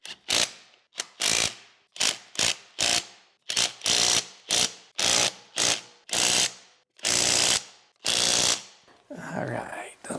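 A ratchet wrench with a 19 mm socket works the wheel spacer lug nuts on a 2020 Kubota tractor, a loud, close run of sharp clicking bursts separated by short pauses, about a dozen strokes in a row.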